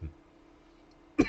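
One short, sharp cough or throat-clear from someone irritated by attic dust, close and abrupt after near silence.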